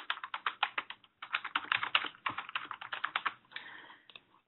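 Rapid, uneven keystrokes on a computer keyboard as a password is typed, close and clear in quick bursts with a short pause before a final slower run of keys.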